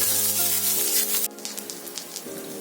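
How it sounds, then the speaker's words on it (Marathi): Two sliced onions sauté in a pan for dried bombil (Bombay duck) curry, a loud steady hiss with a low hum at first, then a lighter, crackling sizzle with soft scraping. "आता त्यामध्ये आपण 2 उभे चिरलेले कांदे घालूया। आता कांदा ब्राऊन होईपर्यंत आपण परतून घ्यायचा आहे।"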